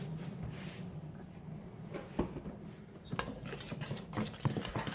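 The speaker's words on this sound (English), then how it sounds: "now what I'm going to do is I'm going to whisk it together" A whisk scrapes and taps faintly against a bowl while mixing bran muffin ingredients, including baking soda, with quiet clinks growing more frequent in the final seconds.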